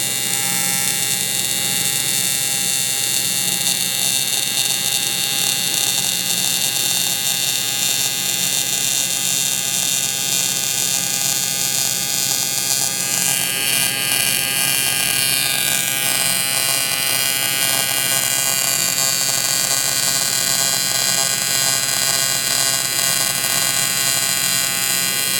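TIG welder fusing aluminum: a steady, loud electrical buzz and hum holds unbroken for the whole stretch, with a slight shift in its high whine partway through.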